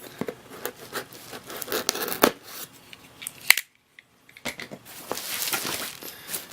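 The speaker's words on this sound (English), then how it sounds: "I gotta cut this open right here." Scissors snipping and crinkling through the plastic packaging of a BlackBerry PlayBook tablet, uneven cuts and rustles up close, with a brief near-silent pause midway.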